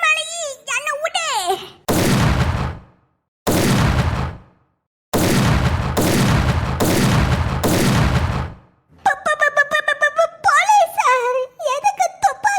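Cartoon gunfire in a Tamil animated ghost comedy: several loud, broadband bursts of shots in separate volleys, framed by high-pitched cartoon character voices speaking before and after.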